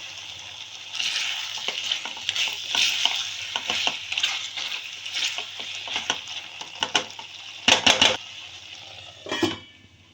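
Pepper chicken sizzles in a pan while a spoon stirs and scrapes it, a steady frying hiss broken by repeated clinks and scrapes, with a few sharper metallic knocks near the end.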